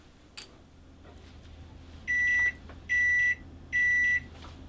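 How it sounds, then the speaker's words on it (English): A kitchen timer in an RV kitchen beeps while cookies bake in the oven: three evenly spaced, bright electronic tones, each about half a second long, over quiet room hiss. "And our kitchen timer beeped"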